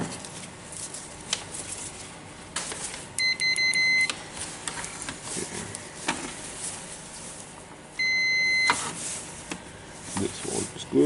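Two short electronic beeps from a multimeter in continuity mode while a Makita DC18RD twin charger cord is tested, each about a second long, amid faint handling clicks and rustle.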